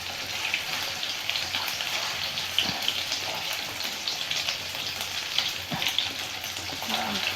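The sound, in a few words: banana chips frying in spattering oil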